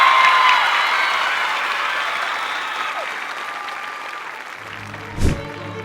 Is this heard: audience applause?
yes